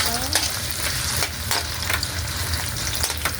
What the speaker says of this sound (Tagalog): Mag-fry na tayo ng patatas.